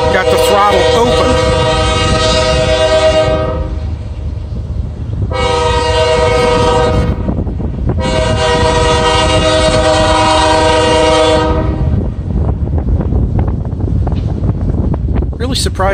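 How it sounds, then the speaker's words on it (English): A long CSX mixed manifest freight train passes a street crossing, its horn blaring loud and close in three long blasts over heavy rumbling and wind buffeting, followed by steady rolling wagon noise. "Yeah, he's actually got the throttle open."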